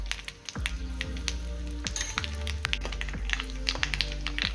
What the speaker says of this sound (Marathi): तेल तापट ठेवलं आहे आता पहिलं थोडंसं मोहरी घालूया मग घालूया हिंग